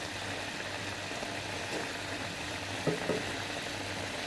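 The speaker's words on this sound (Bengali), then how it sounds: "ধনে পাতা দিয়েছি টমেটো দিয়েছি দিয়ে মাছটাকে ভুনা করতেছি" Poa fish frying bhuna-style with tomato and coriander in a pan: a steady, soft sizzling hiss runs throughout, with a faint clink near the end.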